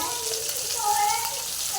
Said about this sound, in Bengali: দেখো মাছটা ভাজা হচ্ছে দেখো কড়াতে